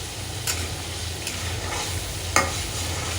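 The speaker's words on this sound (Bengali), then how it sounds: "এখন টমেটোটা দিয়ে দিব, আগের থেকে দিয়ে দিই তাহলে গলে যাবে" Chopped tomatoes go into a fish curry cooking in a pan, bringing a steady sizzling hiss with a couple of soft clinks from stirring. No one speaks.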